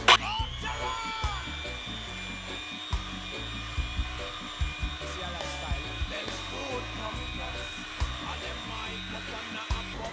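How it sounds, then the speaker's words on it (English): Electric hand mixer creaming sugar and butter for a Jamaican black fruit cake, a close continuous high whine with uneven knocking and scraping as the beaters move through the bowl. "I'm going to be using my mixer to cream out the sugar and the butter."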